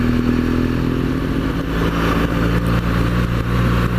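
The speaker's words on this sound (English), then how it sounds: "Number 10 is the noise that the bike makes. It's not very inspiring. I do love the boxer engine" A BMW R1200GS motorcycle's boxer engine runs steadily and close, a loud continuous low drone with a faint mechanical clatter and no talk.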